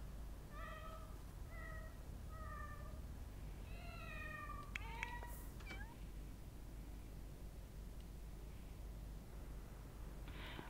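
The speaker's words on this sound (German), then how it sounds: "wir haben eine tote Katze rummaunzen" Cat meowing in The Sims 4, a string of short, whiny mews followed by a longer rising call, faint and alone over a steady low game hum.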